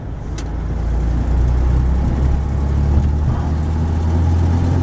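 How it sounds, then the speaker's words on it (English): A truck's engine runs steadily during a downshift into third gear in city driving, a loud, continuous low rumble with no one talking. "So I'm gonna go ahead and shift right down into 3rd"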